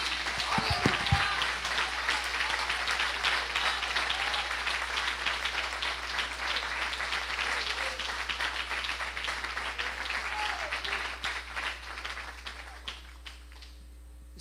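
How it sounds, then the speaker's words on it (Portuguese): Church congregation in a Portuguese-language service giving Jesus a sustained round of applause, dense crowd clapping that holds steady for many seconds before thinning out near the end. "Dê o melhor aplauso para Jesus."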